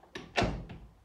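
A barn door slides shut with a soft scrape and a heavy thud, followed by a lighter click of the lock, all close and quiet with a brief ringing decay.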